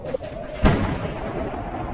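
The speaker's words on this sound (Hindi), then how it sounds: "तेज बिजली कड़कने लगती है" A single deep, rumbling boom of thunder rolls out and lingers as a low sustained rumble, with no voices present.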